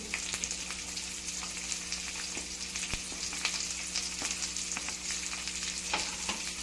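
Chopped onions frying in a pan for a local-style cabbage fry, a steady dense hiss of hot oil with small crackles and light stir clicks throughout, no voices.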